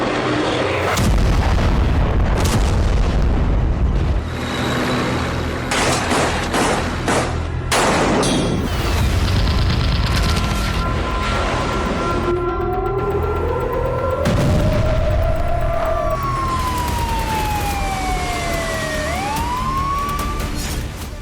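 Missile and drone attack on Tel Aviv, with loud booming blasts and a continuous roar of explosions, joined by rising and falling siren wails throughout.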